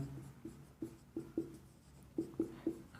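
A pen writing on a drawing sheet: several light, separate taps and short strokes spaced unevenly, close and quiet with no talk over them.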